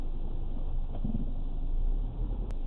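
A car drives through Markham, Ontario, heard from inside the cabin as a steady low road and engine rumble, continuous and fairly loud, with no talking.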